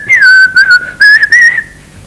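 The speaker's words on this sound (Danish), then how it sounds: "Nu kan jeg høre, at de sidder og fløjter noget så grusomt." Someone whistles a short, clear tune in bright bursts with brief gaps, close and loud, fading out at the end with no talking.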